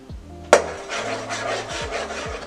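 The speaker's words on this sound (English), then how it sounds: "add flour and stir vigorously until mix forms a ball" Churro dough being stirred vigorously in a pot as flour is mixed in, a steady scraping and rubbing of the spoon against the pot, close and continuous after a sharp knock at the start.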